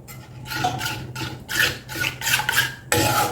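Semiya (vermicelli) and milk mixture with vanilla essence being stirred in a pot for milk ice pops. The spoon scrapes in repeated rhythmic strokes, with about six close, raspy passes and no talking.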